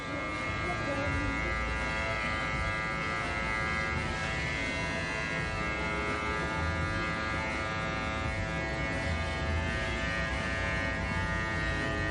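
Electric hair clippers with the blade lever closed buzz steadily and close up while cutting hair, a constant bright hum with slight shifts as they move through the hair.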